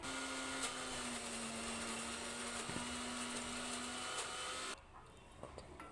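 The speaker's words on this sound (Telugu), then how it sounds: "సాల్ట్ వేసుకొని మిక్సీ పట్టుకోవాలి" A mixer grinder runs on coconut chutney with salt, a loud steady whirring drone with a high whine that stops near the end, leaving quieter rattles.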